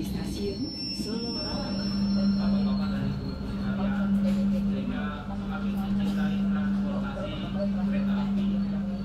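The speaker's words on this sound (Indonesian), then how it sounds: "sesaat lagi kereta api Argo Wilis akan tiba di stasiun Solo" An Argo Wilis stainless steel passenger train pulls into Solo station with a steady rolling rumble, metallic wheel squeal and a sustained tone from the cars, while voices talk nearby.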